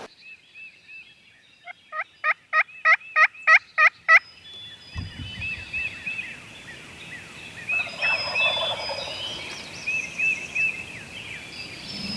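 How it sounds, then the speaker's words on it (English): A wild turkey gobbles outdoors, first a clear rapid series of sharp repeated calls, then further distant gobbles and yelps answering across open ground, fairly loud with no talking. "Bird's still gobbling over here."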